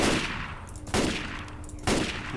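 Three evenly spaced gunshots fire in the video game Left 4 Dead 2, each a loud sharp blast with a short decaying tail, with no talk.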